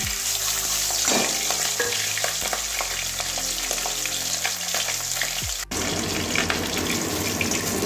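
A piece of catla fish fries in hot oil with a loud, steady sizzle and crackle throughout, broken by occasional clinks and stirring scrapes, with a brief dip near the end.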